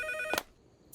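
A telephone ringing in a Boonie Bears Hindi cartoon, a bright electronic trill that stops after a short burst, then a second ring begins just at the end.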